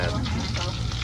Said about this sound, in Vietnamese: này là tôm chiên bột chứ không phải là bột chiên tôm nha cả nhà.